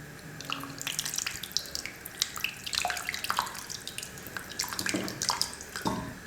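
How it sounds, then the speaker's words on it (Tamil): Tamarind extract poured into simmering radish sambar, a wet splashing trickle with scattered drips and splats, fairly close and continuous over several seconds, no voices. "இப்போ இந்த புளி கரைசலை சேர்த்துடுறேன்."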